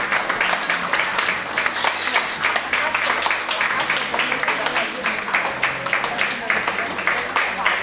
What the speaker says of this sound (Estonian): teeme veel ühe suure aplausi.